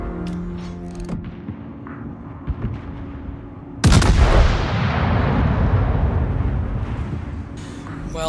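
Ship guns fire in the naval video game World of Warships. A heavy, booming blast hits at once and rolls into a long rumbling decay over several seconds, after quieter mechanical clanks and game ambience.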